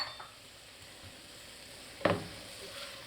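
Red onion and broccoli sizzle quietly in a pan with beef, a steady soft hiss broken by one sharp clatter of stirring about two seconds in.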